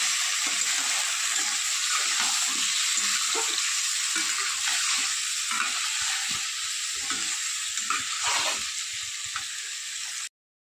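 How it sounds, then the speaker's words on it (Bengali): Chicken pieces fry in a pan for chicken kosha, giving a continuous loud sizzle broken by repeated scraping stirs, close up with no talk, then cutting off abruptly at the end. "এবার মাংসটা দিয়ে দেবো, এর সঙ্গেই ভেজে নেব।"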